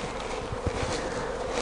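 Bees buzz around the entrances of a top bar hive, a continuous, fairly soft droning hum with no voices over it.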